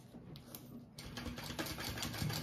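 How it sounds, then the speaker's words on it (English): A sewing machine basting fabric pieces together for a bag, running in a steady close mechanical whir with a brief pause near the start before stitching resumes. "I'm going to baste those on together."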